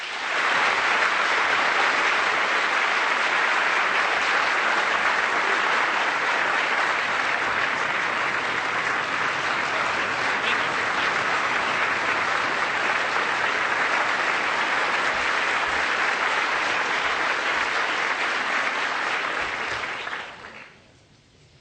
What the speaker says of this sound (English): I haven't said a word, and I already got a standing ovation